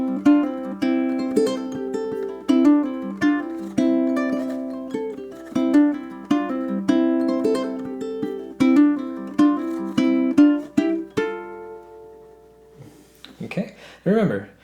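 A ukulele plays a quick melodic etude built on hammer-ons and pull-offs, with steady plucked notes for about twelve seconds before a voice starts talking at the end.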